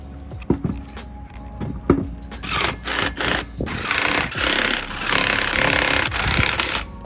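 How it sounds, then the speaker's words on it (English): A battery impact driver tightens lug nuts on a Jeep Gladiator Rubicon while wheel spacers are fitted, its battery running low. A few faint knocks come first, then a run of loud, close, rattling hammer bursts with short pauses between them. "Now I'm only using this impact driver because it's already low on batteries."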